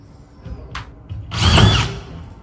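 A DeWalt DCF620 drywall screwdriver drives a screw into drywall in a single brief, loud whirring burst that swells and fades, preceded by a faint click.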